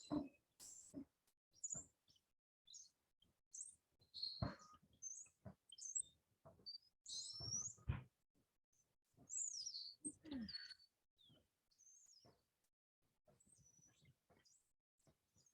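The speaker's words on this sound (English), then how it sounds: "Listen to the birds." Scattered bird chirps and tweets, some high and thin, others fuller, in an otherwise quiet setting with short pauses between calls.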